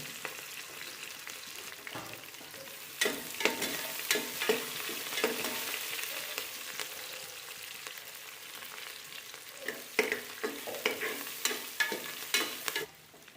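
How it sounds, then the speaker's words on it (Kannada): Green chillies and sliced onion sizzle in hot ghee in a pan while preparing ghee rice, with steady frying hiss broken by repeated stirring clatter from a spoon, louder bursts toward the middle and end. "ಒಂದು ಈರುಳ್ಳಿನ ಈ ಥರ ಹೆಚ್ಚಿಟ್ಕೊಂಡಿದ್ದೀನಿ. ಇದನ್ನು ಹಾಕ್ತಾ ಇದ್ದೀನಿ."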